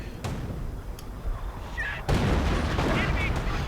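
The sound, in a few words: artillery fire in a video game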